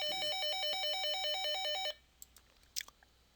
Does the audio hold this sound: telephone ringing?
yes